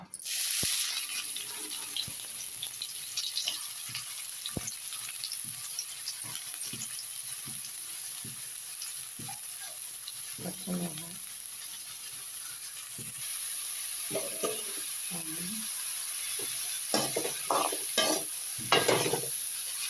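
Onions frying in hot oil give a steady, close hiss and sizzle that runs the whole way through, with stirring scrapes and clatters that thicken toward the end.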